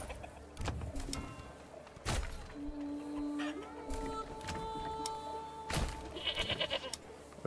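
Goats bleat in the medieval city-building game Manor Lords, several short calls over a soft ambient game soundscape with mechanical clicks and thumps, fairly quiet overall.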